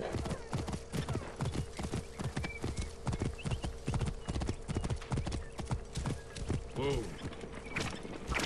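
A horse gallops in the video game Assassin's Creed Origins, with rapid, steady hoofbeats pounding throughout and a brief whinny partway through.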